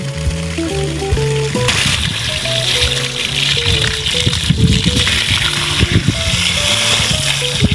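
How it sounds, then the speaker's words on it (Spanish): Water pouring and gushing at a construction site, a steady wash of splashing and trickling with tool clatter and musical tones running throughout; workers talk nearby. "aquí estamos, poniendo el agua"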